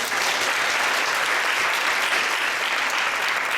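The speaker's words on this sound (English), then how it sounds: "Give them a round of applause." An audience claps enthusiastically for a sponsoring center at a live poetry event, a dense, steady wash of applause from a crowded room that holds its strength for the whole stretch.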